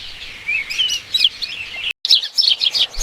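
Sparrows near a farm field chirp busily in quick, high overlapping tweets, with a brief silent break before the chattering resumes, loud and close.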